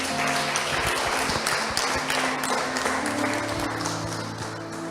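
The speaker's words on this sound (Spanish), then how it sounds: "¿Por qué no le damos un aplauso al Padre?" A church congregation claps for the Father during a pastor's sermon, steady broadband applause that fills the room, with faint organ-like sustained tones underneath and occasional voices mixed in.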